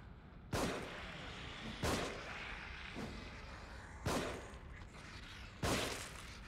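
A shotgun fires in The Evil Within, four loud, separate booming blasts spaced a second or two apart, each followed by a short decay over a low, steady game background.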